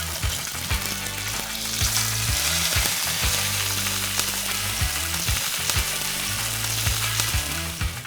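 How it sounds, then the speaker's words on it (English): Salmon frying skin side down in hot oil, a loud steady sizzle and crackle close up, with a faint musical backing running underneath the whole time. "Wait till the oil is shining a little bit, and then we'll drop our fish in skin side down."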